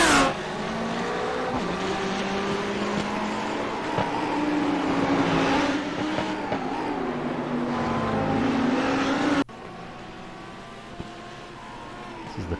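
A race car engine laps the Montreal circuit in iRacing, droning loud and steady with rising and falling pitch through gear changes, heard from the cockpit for about twelve seconds before the tone drops abruptly near the end.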